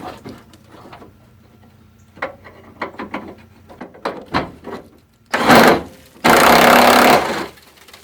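A fender bolt goes back onto a rusted 1975 C20 truck, with scattered tool clicks and taps, then two loud bursts of rapid rattling like a power driver spinning the bolt.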